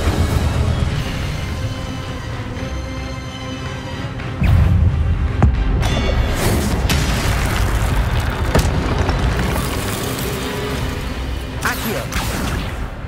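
Fiery spell blasts and booming whooshes from combat in Hogwarts Legacy, played on PC, forming a dense, continuous roar of explosions and crackling bursts with a heavier impact near the middle, with a voice calling out throughout.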